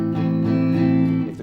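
An electric guitar strums steady eighth-note barre chords with a slightly distorted, sustained tone, loud and close, alone for just over a second.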